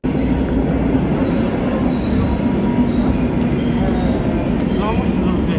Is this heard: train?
yes